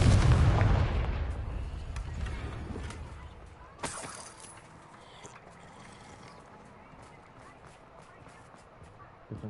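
A Confringo blasting spell explodes in Hogwarts Legacy: a loud, deep booming blast at the start that decays over several seconds, then a sharp crack and quieter crackling debris.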